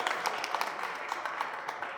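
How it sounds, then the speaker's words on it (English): Audience applause at an early literacy campaign launch: a short burst of moderately loud, scattered clapping from a crowd in a room. "Give her a round of applause since I just interrupted."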